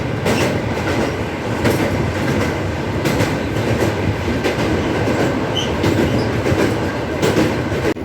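The Bikaner–Kolkata Pratap Express rumbles loudly along the tracks near Bally Bridge, a steady, close roar with rhythmic clatter of wheels and occasional faint squeals.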